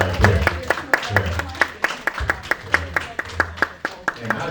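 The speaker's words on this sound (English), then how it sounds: "Let's give him a nice round of applause right there," A few people clap in a regular, fairly close rhythm of distinct sharp claps at a Detroit sunrise gathering, honoring a man who served his country, with a low voice murmuring underneath.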